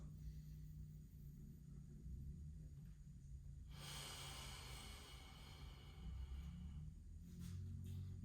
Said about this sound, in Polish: Robimy sobie tutaj 5 oddechów